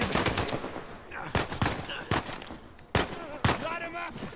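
Gunfire in the Uncharted 4 video game during a sniper firefight, a series of loud sharp shots at irregular intervals with quick bursts early on and bright ringing tones near the end.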